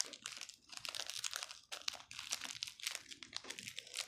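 Plastic seed package, heat-sealed shut, being torn and pulled open by hand with no scissors, giving a close, continuous run of crinkling and crackling with short sharp crunches and tears across the whole stretch.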